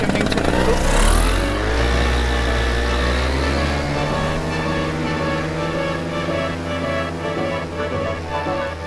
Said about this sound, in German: Der Motor auch aufgewärmt, dann kann es auch schon in die Luft gehen